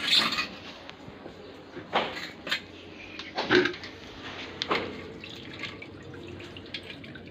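Water poured by hand over freshly caught fish in a container, coming as a few separate splashing gushes and trickles with quiet gaps between, close and moderately loud.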